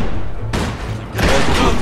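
Gunfire from the Mafia II video game, a loud burst of shots and impacts opening abruptly, a brief lull, then another dense volley, close and forceful, with no voices over it.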